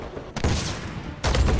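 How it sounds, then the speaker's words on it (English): Gunfire in Uncharted 4 multiplayer: two loud close bursts of rapid automatic shots separated by a short lull, harsh and dense, no voices. "3 people shooting at me"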